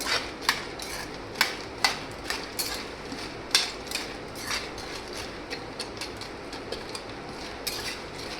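Masala peanuts being stirred in oil in a pan, with repeated light scraping and clinking of a spoon against the metal at an irregular pace, steady and fairly quiet, and no talking.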